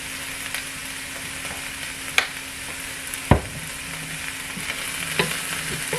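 Onions and peppers with a little ketchup fry in a pan, giving a constant soft sizzle broken by a few sharp clinks and scrapes of stirring.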